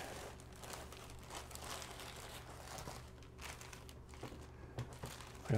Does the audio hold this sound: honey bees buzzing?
no